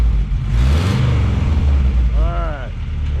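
A car engine with a glass pack muffler and Cherry Bomb exhaust, freshly repaired at the front, rumbles and revs loudly and steadily, while speech overlaps the engine noise.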